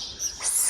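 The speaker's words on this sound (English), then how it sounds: "I can't believe how loud the birds are singing here behind me." High, bright bird song chirps steadily and fairly close in a village setting, a short continuous twittering with no voices.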